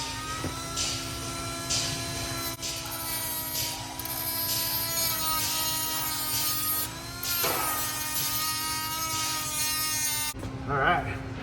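A Dremel rotary tool cuts slits into a rusty car strut on an old Forester, giving a continuous high, whining grind up close. The pitch shifts and dips as the cut bites, under occasional talk.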